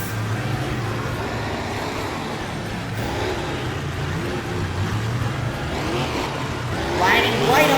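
Monster truck engine roaring at a freestyle show, the Black Pearl with a new K10 body charging a step-up ramp, a loud continuous low drone rising toward the end, with a commentator talking over it.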